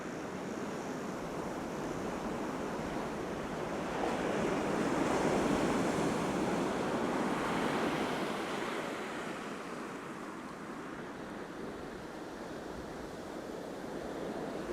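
Surf breaks steadily onto a beach with white water close to shore, a broad continuous wash that swells louder midway and then eases, with some wind noise on the microphone and no voices.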